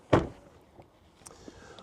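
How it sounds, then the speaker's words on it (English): Tesla Model 3 car door closing with a single solid, close thud, then faint latch clicks and a quiet mechanical whir as it settles. "and I close the door"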